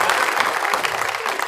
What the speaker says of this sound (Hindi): एक बार ताली बजा के मुझे हौसला बढ़ा दीजिए मेरा